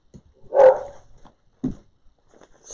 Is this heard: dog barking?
yes